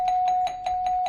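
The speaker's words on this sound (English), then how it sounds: "We got a bell." A game show bell rings out in a rapid, even series of about six bright electronic dings, loud and close, with no talk over them.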